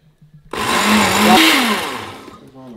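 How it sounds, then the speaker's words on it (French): After a few soft taps, a blender roars to life mixing peanut butter, milk, oat flakes and rice cream, one loud whirring burst lasting about two seconds before winding down. "Et là, on va mixer."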